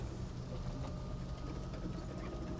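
A light tank engine in a video game drones at a steady, even pitch, a faint continuous whir much like a vacuum cleaner running, with no talk over it.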